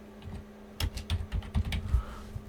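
Keys clatter on a computer keyboard in a quiet room, a short burst of close, irregular taps with a few louder strokes, no voices.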